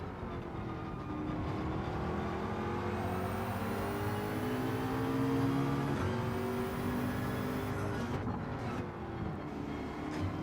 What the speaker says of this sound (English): You kind of have to like the sound of the Mustang